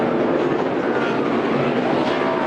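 NASCAR race cars roaring around a road course, a loud continuous blur of engine noise with no clear breaks.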